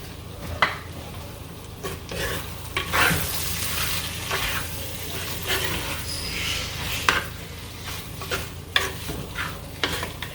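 Wild boar curry fries dry in a clay pot, Jaffna style, with a steady close sizzle. Irregular scrapes and knocks of stirring break through it all the way, and no voices are heard.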